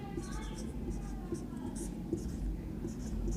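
Pen scratching on paper while a handwritten Class 10 math solution is worked out, a steady soft scraping that runs under continuous talking throughout.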